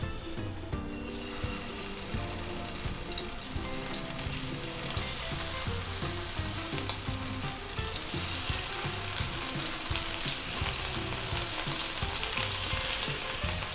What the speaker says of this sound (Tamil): நம்ம எடுத்து வச்சுருக்க இந்த உருளைக்கிழங்கை போட்டு நம்ம வந்து பொரிச்சு எடுத்துடலாம்